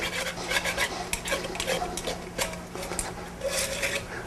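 A brush scrubs out the tubes of a brass instrument in a bathtub, producing a steady close scrubbing and rasping with quick repeated strokes and faint clinks, and no voices.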